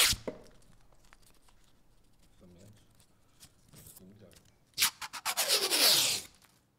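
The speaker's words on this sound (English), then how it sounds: "I'm going to use a gift ribbon and a scissors," Gift ribbon being handled and cut with scissors: sparse soft rustles and small crinkles at first, then a louder burst of rapid snips and tearing ribbon toward the end, with faint talk underneath.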